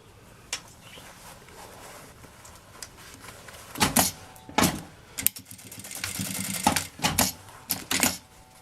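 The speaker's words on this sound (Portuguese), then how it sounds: "vou passar uma costura aqui" A sewing machine stitching a seam on a fabric bag, with a low mechanical hum running underneath and several sharp, clattering bursts of stitching growing louder toward the end.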